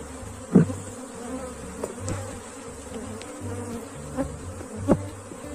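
An Africanized honey bee swarm buzzes steadily and close, a continuous droning hum with individual bees flying past the microphone.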